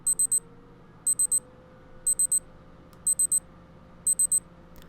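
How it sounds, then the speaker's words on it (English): A Casio W-737H digital watch sounds its countdown alarm: repeated groups of three or four sharp, high electronic beeps about once per second, clear against a faint background. "you'll hear that audible alarm at your chosen time"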